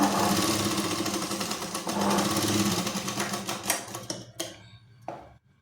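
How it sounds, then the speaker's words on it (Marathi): Sewing machine double-stitching the puff of a katori blouse. It runs in a fast, continuous mechanical rattle that slows and breaks into a few separate clicks before stopping. "तर हे अशा प्रकारे त्याला देखील डबल शिलाई करून घेणार आहोत."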